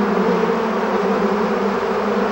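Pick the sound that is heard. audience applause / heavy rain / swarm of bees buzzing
swarm of bees buzzing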